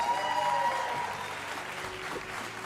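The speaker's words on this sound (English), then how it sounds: "Give him some round of applause. Give him some noise" An audience claps in a short, steady round of applause that fades slightly toward the end, with a few faint voices underneath.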